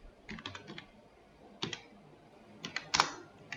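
Someone types on a computer keyboard while entering shift names into a Google Sheets duty roster. Quick clusters of clicky keystrokes come in short bursts with pauses between them, close up and moderately soft, and no one speaks.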